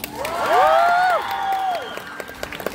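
A youth camp crowd cheers and whoops, with rising and falling shouted voices over a soft patter of applause, lively and moderately loud from a gathered group.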